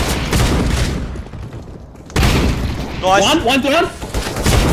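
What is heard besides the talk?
sawn-off shotgun gunfire in a video game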